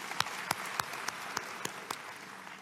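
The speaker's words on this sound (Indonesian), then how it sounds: "Berikan tepuk tangan deh buat Tuhan Yesus ya." Scattered congregation applause during a church service, sparse hand claps spaced out and steady, a few louder individual claps standing out over a noisy room.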